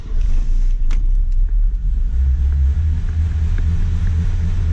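A car engine runs close by with a loud, steady low rumble, holding a constant idle after a brief rise at the start.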